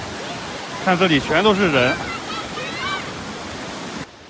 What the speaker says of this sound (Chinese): 最近这几天是雨季啊，它下雨多，所以这个瀑布的水量就大一点啊